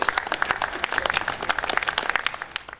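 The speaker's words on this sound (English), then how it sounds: "A round of applause for him" An audience at a Nigerian annual assembly and induction of quantity surveyors applauds the board president, crisp individual claps clearly audible within moderately loud, uneven clapping that tapers off at the end.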